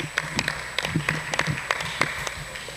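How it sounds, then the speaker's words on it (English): Scattered applause from a school competition audience, a loose patter of individual claps, moderately close and uneven, with no talk over it. "Please, a round of applause"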